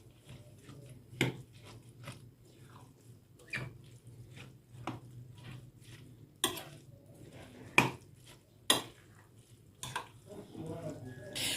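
Tomato paste stirred into a cooking pot for a mumbar stuffing mix, heard as scattered scraping clatters of a spoon against metal, some sharp and close, with a low steady hum underneath.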